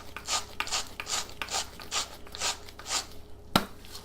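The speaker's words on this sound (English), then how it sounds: "The salt says like 1/8 teaspoon, so I'm just going to grind some in there." A hand salt grinder crunches in about seven steady, evenly spaced twists, each a short gritty rasp, close and fairly soft, followed by a sharp tap at the end.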